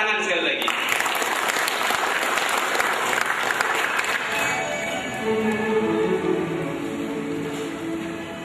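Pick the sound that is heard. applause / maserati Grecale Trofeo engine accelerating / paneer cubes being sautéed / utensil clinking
applause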